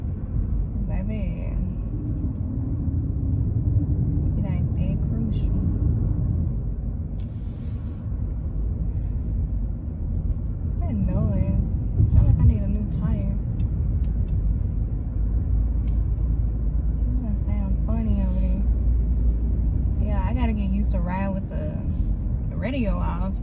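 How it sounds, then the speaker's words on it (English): Steady low engine rumble and road noise heard from inside a moving car on a drive to work, continuous throughout, with a person talking intermittently over it. "I'm like hearing noises from the car"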